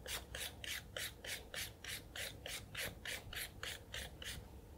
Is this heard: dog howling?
no